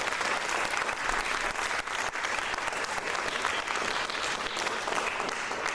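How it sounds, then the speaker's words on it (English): At a high school music concert, the audience gives steady, even clapping that holds at a moderate level from start to finish. "a big round of applause for all those people who help support our kids"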